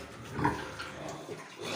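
A pig grunts faintly in a farm pen among other pigs on a small Ukrainian pig farm. The soft, low grunts are brief and sit under steady background noise.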